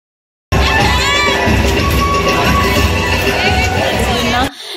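A dense, loud crowd at a Navratri garba night in Gujarat, with children shouting and cheering over busy babble, sustained at close range before cutting off abruptly near the end.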